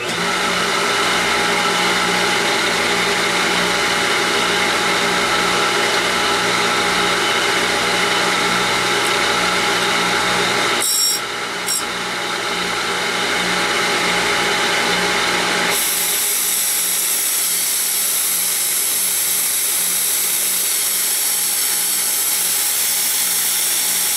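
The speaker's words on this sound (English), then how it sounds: "now I'm going to be grinding the top surface, and it's going to take me a few grinds to get down through the carbide" A power grinder works steadily across a carbide top surface with a loud, continuous high whine, briefly dips near the middle, then keeps going with a changed, brighter tone to the end.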